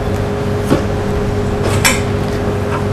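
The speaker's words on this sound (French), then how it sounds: "Voilà, on va mélanger tout ceci." Chocolate cake batter with praline being mixed in a bowl, giving a couple of soft clinks and scrapes of the utensil against the bowl over a steady, close background.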